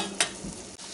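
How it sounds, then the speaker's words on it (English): Celery and onion cooking in melted butter for stuffing, a continuous soft sizzle with a single sharp stir or scrape near the start, close and moderately quiet. "celery and onion and then my melted butter. We're just going to get that cooked till it's translucent."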